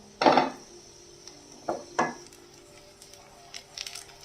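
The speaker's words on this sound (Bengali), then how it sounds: "ঢাকনাটা খুলছি বন্ধুরা" A cooking pan lid is lifted off a quick vegetable breakfast dish, giving a couple of sharp metallic clinks and knocks followed by faint sizzling in a quiet kitchen.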